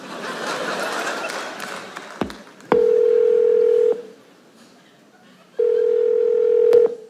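A telephone dial tone heard while a call is being placed, two steady sustained beeps of about a second each separated by a pause, loud and close, following a stretch of background chatter and laughter.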